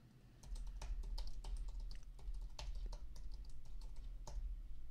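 Fingers type a page name on a computer keyboard, a close, quiet flurry of irregular key clicks and taps over a low steady room hum.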